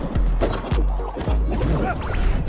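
Glass shatters in the MultiVersus fighting game, several sharp cracking hits in quick succession over busy game noise and music.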